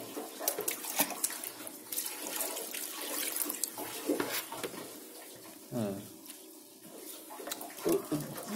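Water pours and splashes from a container onto a freshly transplanted ficus bonsai, irregular trickling and spattering bursts close to the microphone.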